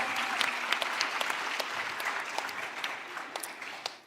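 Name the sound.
audience applause at a crypto conference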